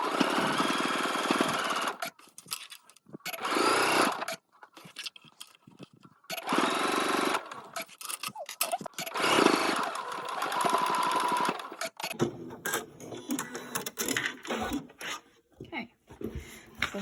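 Sewing machine stitching around the edge of a top toward the V and down to the bottom, running in loud steady bursts with brief stops, close up, with a voice talking at times.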